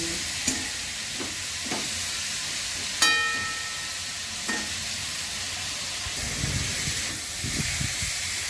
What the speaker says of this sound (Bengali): গ্রেট করা আদা একসঙ্গে কষিয়ে দেবো